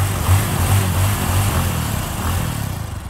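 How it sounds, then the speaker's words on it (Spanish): A loud, steady engine drone with a low buzzing rumble fills the whole stretch, as motorcycles arrive nearby. "cuando se escucharon unas motos."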